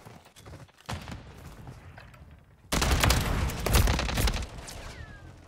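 Striker gunfire in the video game Modern Warfare 3 comes as a dense, sustained burst of shots midway through, loud and close, after quieter game ambience with scattered thuds.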